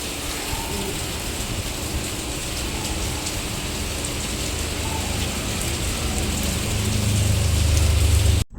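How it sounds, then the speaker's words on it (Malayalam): Heavy rain pours steadily, a dense hiss of drops on surfaces that grows a little louder toward the end, with no voices. "ഭയങ്കര മഴ പുറത്ത്"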